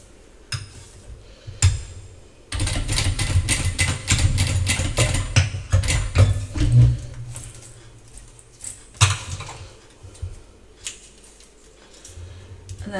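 A sewing machine stitching a zipper, a fast mechanical clatter running for several seconds, bracketed by scattered clicks and handling knocks, close and fairly loud with no talking.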